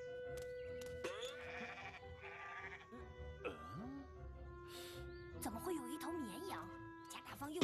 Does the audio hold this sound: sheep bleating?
yes